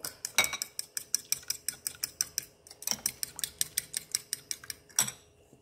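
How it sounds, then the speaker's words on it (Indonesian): A whisk rapidly beats eggs in a bowl, a steady run of quick bright clicking strokes against the bowl side with a few harder knocks, close and clear with no talking. "jadi di sini telurnya aku akan kocok dulu"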